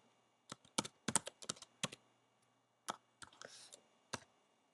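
Fingers typing a login on a computer keyboard, a quiet run of separate clicks and short bursts of keystrokes with pauses between them, close and alone in a silent room.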